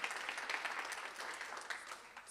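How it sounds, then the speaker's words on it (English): Steady round of applause from an indoor audience honoring the point-in-time homelessness count captain, a dense wash of many hands clapping at moderate volume throughout, with no voices. "she really deserves just a big round of applause for the work she"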